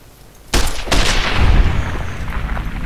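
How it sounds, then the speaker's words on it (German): Two sharp gunshots crack close together in Fallout: New Vegas, followed by a rumbling, echoing boom and a lingering roar of action noise. "So müssen die Schüsse sitzen und nicht anders."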